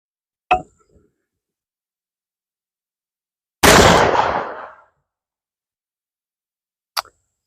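A black powder rifle fires a .45 ACP Interceptor bullet: one loud, roaring blast that trails off over about a second, set between a sharp click shortly before and another brief click afterward.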